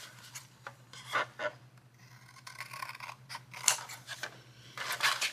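Scissors snip through folded paper craft pieces in a series of close, crisp cuts and rustles, quiet and irregular, with brief pauses between cuts.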